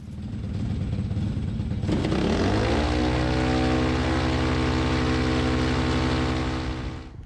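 An EOS Quattro four-stroke paramotor engine idles roughly, then revs up sharply after about two seconds and holds a loud, steady, harmonic drone close by, with no talking.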